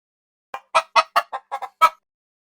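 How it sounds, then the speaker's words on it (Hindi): A hen clucks inside a house, giving about seven short, sharp clucks in a quick, uneven run with silence around them. "तभी घर के अंदर से हल्की सी मुर्गी की आवाज सुनाई देती है।"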